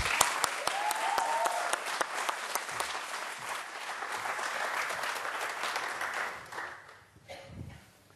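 A large audience breaks into sustained, dense applause to welcome Olympic swimmer Michael Phelps at a London press conference, with scattered sharp claps up front and the clapping gradually thinning and fading near the end.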